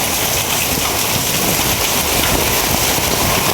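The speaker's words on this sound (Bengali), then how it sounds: "প্রচুর বাড়তাছে গতি বৃষ্টি।" Heavy rain pours down in a steady, dense roar, close and loud, with no break and no voices.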